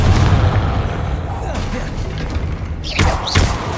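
A Confringo fire spell goes off during combat in Hogwarts Legacy, heard as a loud booming thud and rumbling blast followed by further impacts, alongside game combat noise.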